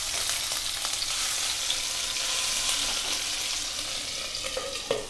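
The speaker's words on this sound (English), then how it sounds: "It will splutter a lot now, so I will cover this at this point." Green chili and onions frying in a covered pan for egg curry give a steady, close, continuous sizzle and spluttering crackle with a few sharper pops near the end.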